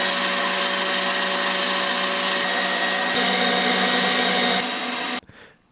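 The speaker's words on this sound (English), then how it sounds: "Beat the aquafaba and lemon juice until it's stiff." An electric mixer beats aquafaba with lemon juice to stiff peaks, a loud, steady motor whir that shifts slightly higher partway through, then cuts off abruptly near the end.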